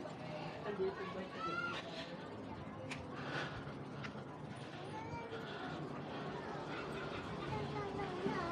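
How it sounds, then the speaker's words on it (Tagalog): A cat meows several times, short and fairly faint, amid a murmur of background crowd chatter and street noise. "Meow, meow."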